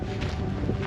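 A short, strong gust of wind on a sunny mountain hike near Glaciar La Paloma, Chile, buffeting the microphone with a low, rough rumble.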